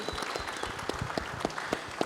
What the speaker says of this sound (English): So let's give her a round of applause too.